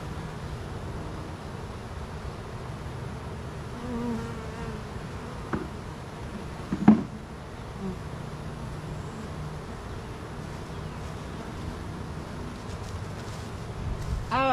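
Honey bees buzz steadily inside an open hive holding a virgin queen, a close, continuous drone with a brief clatter partway through.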